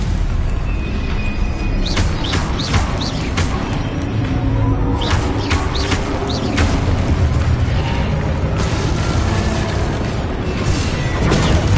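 Spell combat in Hogwarts Legacy with a Stupefy cast: a string of sharp bursts and booming impacts over a dense, loud rumble of game effects, with no clear speech.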